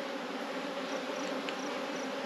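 Honeybees in a hive packed with bees, a dense, continuous close buzz that holds steady throughout with no voices.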